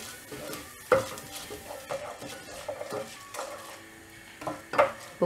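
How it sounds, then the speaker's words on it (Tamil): Urad dal frying in a pan for mint chutney while a spoon stirs it, giving soft repeated scrapes and a few sharper metal clinks over a faint background. "உளுத்தம் பருப்பு ஆட் பண்ணிட்டு இத நல்லா ஃப்ரை பண்ணிரலாம்"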